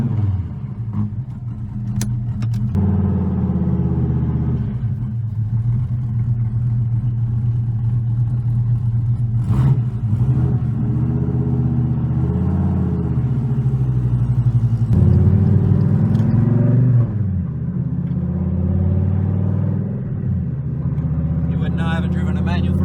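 A 2016 Dodge Viper ACR with a manual gearbox rumbles steadily as it drives, its deep engine note rising and falling with throttle and gear changes, with people talking over it inside the car throughout.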